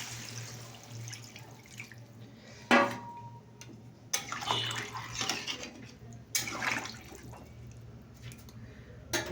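Water is poured into a pan of fish curry, heard as intermittent close splashing and trickling bursts over a low steady hum, fairly quiet overall.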